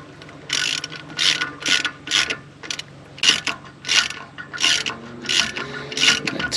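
A ratchet tightens the nuts on a CV joint of an 80 Series Landcruiser, working in a star pattern. About eight close, crisp bursts of rapid clicking come one after another with short pauses, with no talk.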